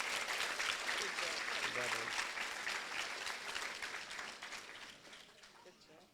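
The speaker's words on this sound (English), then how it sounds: "Let's give them all one more hand of applause." Audience at a middle school eighth-grade moving-up ceremony applauds in a sustained wash of clapping that gradually fades out, with faint voices mixed in beneath it.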